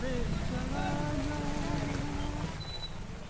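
Steady monsoon rain pours at Ram Jhula in Rishikesh, a dense, continuous hiss of drops on surfaces that holds loud and even throughout, with a faint tonal hum underneath.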